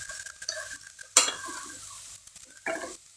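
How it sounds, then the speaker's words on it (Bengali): Boiled boneless chicken cubes fry in a pan with tomato, onion, garlic and ginger, heard as a soft, faint sizzle broken by a couple of sharp scraping stirs of a utensil against the pan, close by with no voices. "এইগুলোকে দিয়ে সব ভাজা"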